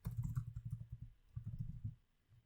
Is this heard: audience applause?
no